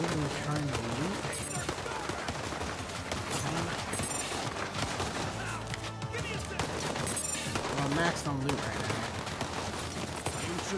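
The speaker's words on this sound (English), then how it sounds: "can you stop shooting at me?" Rapid automatic gunfire and bursts of shots from the video game Borderlands 3 run loud and continuous, layered with game effects and music, with a voice talking over the fighting.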